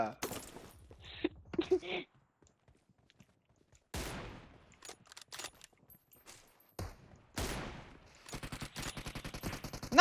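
Guns firing in PUBG Mobile, the battle royale shooter: scattered short bursts and single shots, some sharp and close, others thinner, separated by quiet gaps, with a few faint shuffling movement sounds between them.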